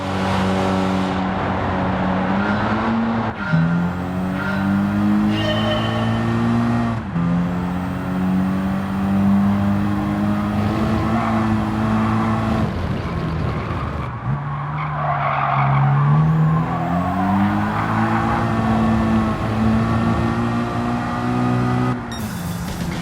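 A Renault Clio RS220 Trophy in Gran Turismo 7 with a sustained engine drone rising and falling through gear changes and long stretches of tyre squeal through corners, loud and continuous.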